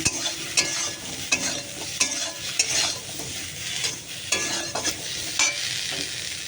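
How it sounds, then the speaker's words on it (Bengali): Bitter gourd with salt and turmeric fries in a pan under constant stirring. A spatula scrapes and taps rhythmically over a steady, close sizzle of oil. "উচ্ছেটাকে আমি বেশ লাল লাল করে ভেজে নেব"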